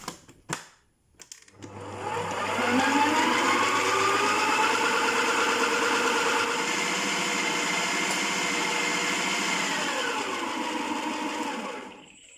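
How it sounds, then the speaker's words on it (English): An electric mixer whisks cake batter for a biscuit cake, starting after a few knocks and then whirring steadily and close for about ten seconds, its pitch rising slightly, before winding down. "Then we are going to whisk it for it to be very fluffy."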